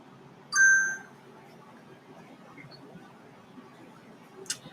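A phone's text message notification rings out as a short, bright ding near the start, followed by quiet room tone and a faint click near the end.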